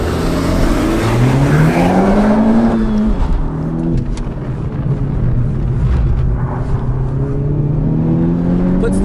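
A 2020 Honda Civic Type R with manual transmission accelerates hard on a track, its engine note climbing loud and steady through the gears with no talking.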